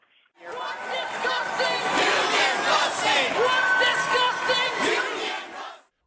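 Loud, dense roar of a protest crowd packed inside a multi-story building in Wisconsin, with shouting and cheering blended into a steady wall of noise that holds for several seconds and then cuts off; drum circle present.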